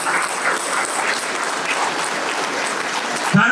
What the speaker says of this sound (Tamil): உங்க எல்லோருக்கும் நீங்களே மிகப்பெரிய கைத்தட்டு கொடுங்க இந்த குரூப்புக்கு